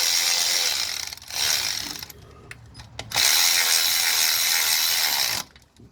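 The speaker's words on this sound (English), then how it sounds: "You can go ahead and run them down with your battery ratchet" Close, loud whirring of a battery-powered ratchet running down 12 mm bolts on a 2004 Toyota Sienna during timing belt installation, in two long bursts separated by a short pause with quieter clicks and handling noise.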